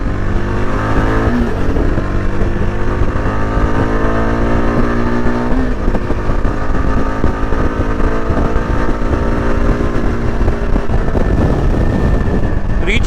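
A Yezdi Adventure motorcycle accelerates hard toward top speed on an open road, its engine note climbing steadily in pitch through gears, loud and continuous with rushing wind noise throughout and no talk.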